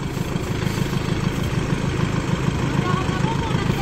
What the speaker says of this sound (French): il tourne bien le moteur